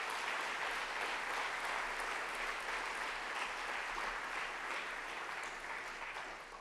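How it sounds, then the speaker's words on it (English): An audience at an evening talks event claps steadily in a hall, a fairly faint but continuous round of applause that thins out slightly toward the end. "A round of applause again for our Walrus Talkers this evening"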